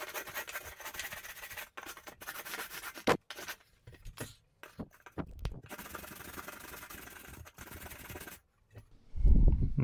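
A rasp scrapes and smooths dried drywall joint compound in close, uneven bursts of rough scratching broken by short silences, ending in a heavier thump.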